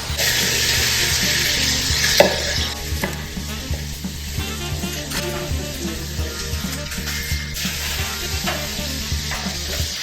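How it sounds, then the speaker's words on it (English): Food sizzles and crackles loudly in a hot pan while making pasta with broccoli and chicken sausage, with steady frying hiss and occasional scraping or stirring noises, no voices. "Sizzle, yum"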